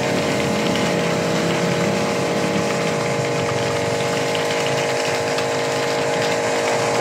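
A fully automatic foaming machine of the latest model runs at full power during a first-use demonstration, giving a continuous loud mechanical drone with steady hum and roar and no pauses or voices throughout.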